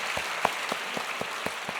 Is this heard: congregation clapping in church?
yes